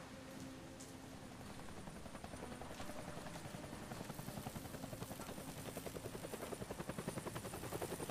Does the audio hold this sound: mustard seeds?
no